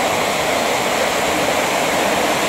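Heavy water pours down at Sanaghagra Waterfall in Keonjhar, a steady, dense roaring rush that stays loud and unbroken throughout.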